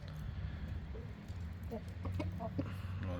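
A chicken clucks in short, quiet bursts over a low rumbling background, fairly close.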